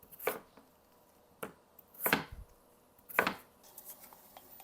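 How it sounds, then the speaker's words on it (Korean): A knife chops potatoes on a cutting board for mashed potatoes, giving several distinct sharp cuts spaced irregularly in a quiet kitchen. "포테이토용 감자를 잘라줄게요"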